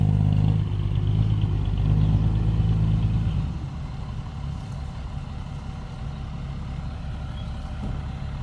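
A Kubota TS115 tractor engine revs hard with a deep, rumbling roar, then drops back to a lower, clattering chug that carries on steadily.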